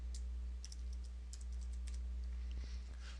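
Keys clicking on a computer keyboard in short, quick bursts of typing, crisp and close, over a steady low electrical hum with no talk.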